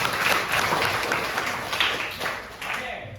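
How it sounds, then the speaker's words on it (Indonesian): Students in a junior high school classroom clap for a classmate after an answer, a dense patter of many hands lasting a few seconds, with voices of pupils mixed in underneath. "Oke, boleh beri tepuk tangan."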